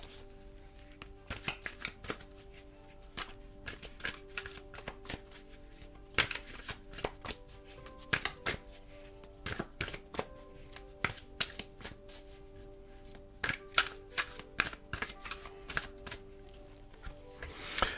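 Tarot cards shuffled for a love reading in a quiet whispered setting, a long run of soft riffling flicks and crisp card slaps in uneven bursts, close and alone with no talking.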